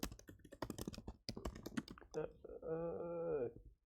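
Computer keyboard typing while writing JavaScript code, a quick run of close clicking keystrokes that gives way to a brief sustained hum near the end.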